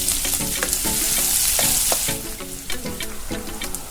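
Chopped onion hits hot mustard oil seasoned with cumin, giving a loud, close, steady sizzle with crackling pops and light stirring scrapes throughout.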